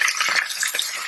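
Loud, continuous sizzling of onions and green chillies frying in hot oil for vegetable biryani, with a couple of soft stirring scrapes through the pan.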